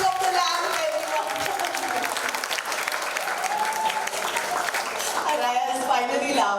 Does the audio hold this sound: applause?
yes